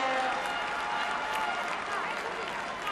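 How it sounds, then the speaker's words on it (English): At a women's Six Nations rugby match between Italy and France, the stadium crowd keeps up a broad, even roar of cheering and applause while a commentator talks over it. "The crowd absolutely enraptured by it"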